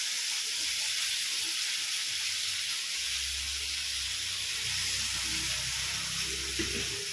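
Brinjal sizzles steadily in hot oil with onion, tomato and curry leaves, a soft continuous frying hiss with a low rumble entering partway through.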